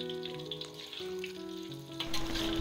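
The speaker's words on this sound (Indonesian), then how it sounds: "goreng hingga bawang merah harum dan layu" Shallots frying in hot oil for a homemade Lamongan-style pecel lele sambal, a steady close sizzle with crackle running throughout, no voices.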